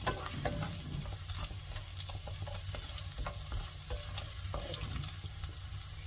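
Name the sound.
ginger frying in oil for tomato thokku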